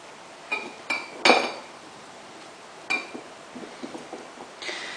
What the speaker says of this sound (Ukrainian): У кожну банку закладаємо огірки.